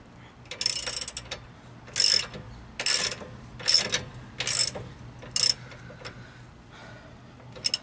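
A ratchet tightens the top bolt of a sway bar link on a 2006 Chevy Aveo, giving six or seven sharp, close clicking bursts at a steady pace with short pauses between strokes.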